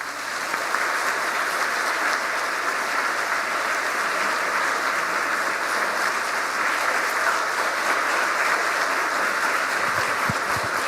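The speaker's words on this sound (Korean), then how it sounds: "큰 박수로 모시겠습니다" Sustained applause from a church lecture audience fills the whole stretch, dense and even, steady clapping that continues without a break.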